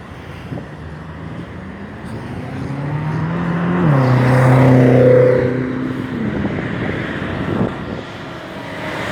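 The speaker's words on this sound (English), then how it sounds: "Now a car is going to come." A single car approaches and passes on a residential street on a summer Sunday, its engine hum rising to a peak near the middle and then fading away over a steady background of traffic noise.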